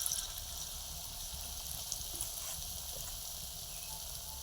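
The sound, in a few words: pakoras (onion fritters) frying in oil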